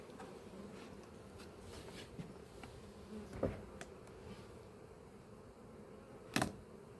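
Honeybees hum in a steady low drone around the front entrance of an apiary hive, close by, with a few sharp knocks and clicks breaking through and no one talking.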